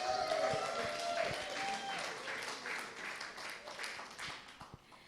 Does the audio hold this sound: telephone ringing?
no